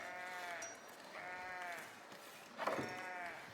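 Sheep in the medieval city-building game Foundation bleat three times in close succession, with wavering, nasal calls that are clear and fairly close against a quiet background.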